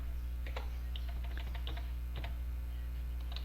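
Scattered, irregular keystrokes on a computer keyboard, close and fairly quiet, over a steady low electrical hum, with short pauses between bursts of typing.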